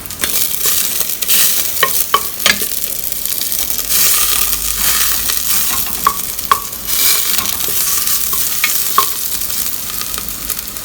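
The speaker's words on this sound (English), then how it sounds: "The oil is heated. What I'm going to do is I'm going to use the garlic for tempering." Garlic sizzling and frying in hot oil for tempering while a fish bharta and prawn dal are cooked, a steady loud crackle broken by stirring scrapes and occasional metallic clinks of a utensil against the pan.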